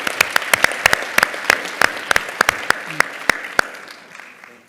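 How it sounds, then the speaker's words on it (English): Applause from a small audience at a financial literacy education event for one table's answers: a few people clapping in sharp, distinct claps that fade out after about four seconds. "All right, let's give a round of applause for that table."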